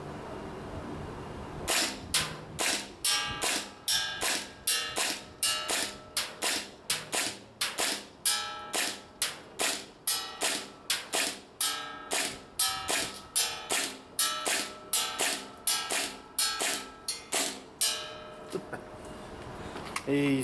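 An airsoft gas blowback pistol fires at a target 30 meters away, giving a long, steady run of sharp snapping shots about twice a second, loud and close.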